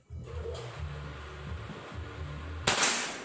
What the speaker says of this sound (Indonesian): kita tes dulu untuk nembak lubang peluru